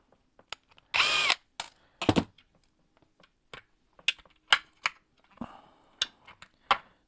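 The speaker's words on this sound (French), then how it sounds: "Attends, avant de le visser, Mani." A power drill driving a screw during a French DIY job, heard as a long whirring burst near the start followed by several shorter bursts and clicks, close and fairly loud, with no talking.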